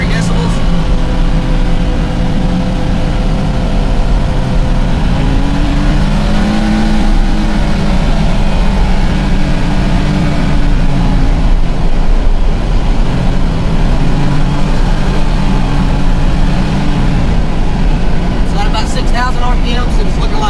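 A CFMOTO U10 side-by-side engine holds a steady loud rev near 4,800 RPM, a dense continuous drone lasting the whole stretch, with a brief rattling change toward the end.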